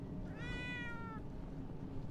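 A single clear cat meow from an indie detective video game rises once over a steady low background hum.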